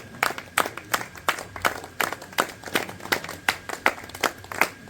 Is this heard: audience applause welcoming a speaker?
yes